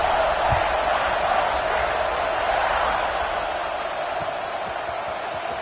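A stadium crowd in a Madden football video game buzzes steadily as a dense, continuous roar, with a broadcast-style announcer voice talking over it.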